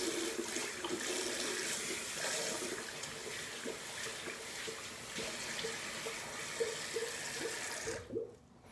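Water runs and splashes at a sink as a face is wetted for a final pass of a safety-razor shave with Proraso Red, a steady close rush with small splashes that stops suddenly near the end.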